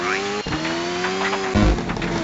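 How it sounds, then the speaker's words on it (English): Rally car engine from Colin McRae Rally 2005 on the N-Gage, heard from the front hood camera with loose rubble rattling against the wheel wells; a steady droning engine tone with a gravelly thump near the end, no talk. "when you switch to the front hood camera, you can actually hear rubble hitting the wheel wells of the car"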